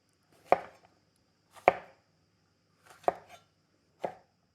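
Knife chopping bell peppers on a cutting board for jambalaya, four separate sharp chops spaced about a second apart, close and clear with no talk.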